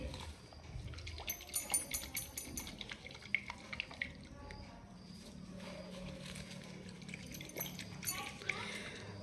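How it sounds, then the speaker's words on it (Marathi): Faint watery sloshing with small splashy knocks and ticks, quiet and close, repeating irregularly as water moves inside a shaken coconut. "त्याच्यात पाणी हाल हालत आहे आपल्याला त्या पाण्याचा आवाज येतो आहे"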